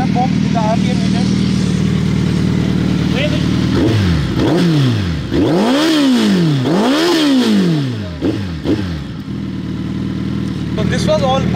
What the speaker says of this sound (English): So this was the superb sound of M4 exhaust.